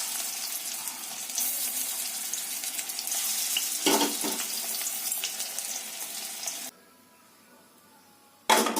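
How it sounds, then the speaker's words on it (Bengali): Banana flower fritters deep frying in hot oil give a steady, close hissing sizzle for most of the clip, cutting off abruptly near the end before briefly returning. "বড়াগুলো ভেজে তুলে নেবো আগে"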